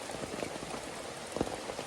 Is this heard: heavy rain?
yes